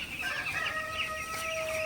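A flock of broiler chicks clucking continuously at close range, with overlapping soft calls and a few higher chirps, no talking.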